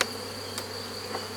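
Honeybees in a queenless hive give off a steady, continuous hum with a thin high tone running through it and a few faint brief clicks. Close and moderately loud, with no voices.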